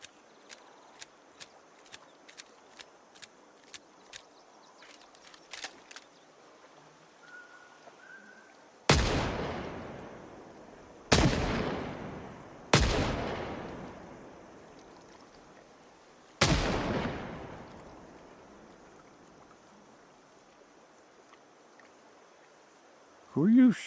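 Gunfire in a video game: a string of small distant pops, then four loud booming shots with long decaying tails, well spaced over a quiet background.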